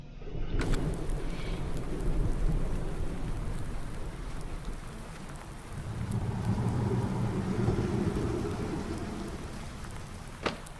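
Steady heavy rain with rolling thunder in Farming Simulator 19 on a farm map, a continuous loud downpour that swells midway, with a sharp crack near the end and no voices.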